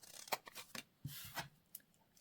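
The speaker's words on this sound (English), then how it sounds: "I'm going to trim these little tag corners." Scissors trimming the small corners of a paper tag: a quick run of crisp, quiet snips and short cuts with brief pauses between them, close up, no voices.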